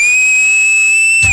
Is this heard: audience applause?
no